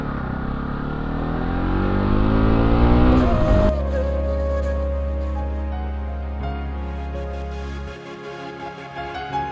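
A Bajaj Pulsar NS200 motorcycle accelerates hard in first or second gear, its engine note rising loud and close before a gear change drops it into a steady, fading drone.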